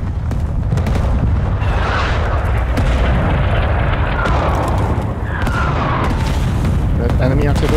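Artillery rumble and booming blasts in Rising Storm 2 gameplay set in Hue City with US Marines, a loud, continuous wash of low explosions and battlefield noise with a voice talking over it.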